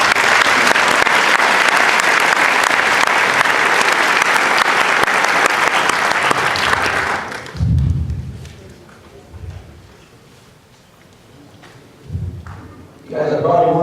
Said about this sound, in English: I want you to give Herm Edwards a round of applause, please.